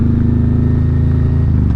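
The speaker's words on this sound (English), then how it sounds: "Roll on, roll off. Let the engine do some engine braking." Motorcycle engine braking on a rural Tennessee backroad, a loud close low throbbing drone with steady pulsing rhythm, pitch easing slightly as it slows.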